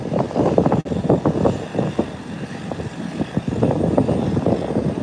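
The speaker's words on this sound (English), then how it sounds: "Beechcraft 1900 is at the threshold of the runway and it's heading down for takeoff" A Beechcraft 1900 turboprop rolls down the runway for takeoff, its engines a loud, throbbing propeller roar that pulses unevenly and is buffeted by wind on the microphone. There is no talk over it.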